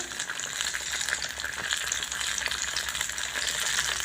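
Kebabs frying in a pan over a low flame make a continuous, even crackling sizzle close by, steady for the whole short stretch with no voices.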